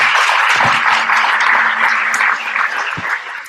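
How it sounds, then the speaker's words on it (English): An audience at a screenwriters panel and launch party applauds the panelists: a broad, steady wash of clapping in a room, with a voice briefly heard underneath, easing slightly toward the end. "A round of applause, please."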